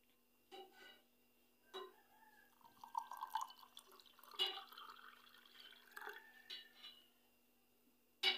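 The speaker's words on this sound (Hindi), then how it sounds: "अब इसमें डालेंगे पानी," Water is poured into a glass holding mango squash and sugar, with soft, faint drips and trickles at irregular intervals in a quiet kitchen.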